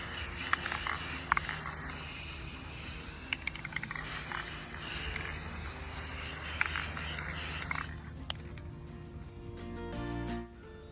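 Indoor/outdoor spray paint hisses from a can in a steady, continuous broadband stream for most of the span, then cuts off near the end, leaving a few faint clicks, while a scrap-wood faux iron plaque is painted.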